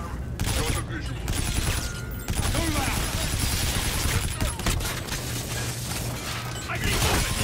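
Rapid sustained ICR rifle fire in the Call of Duty Infinite Warfare campaign, a dense unbroken volley of loud shots layered with combat noise throughout, with a soldier's voice talking briefly under it.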